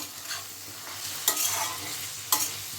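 Spoon stirring black pepper powder through pasta and sauce in a pan, with a soft continuous sizzle and two sharper scraping strokes against the pan, no voices.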